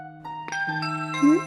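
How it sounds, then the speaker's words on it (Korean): A doorbell chimes at night in a new apartment, sounding as a short clean tonal ding-dong of stepped notes that rings out alone and clearly. "누가 한밤중에 초인종을 눌러서 현관 카메라를 보니"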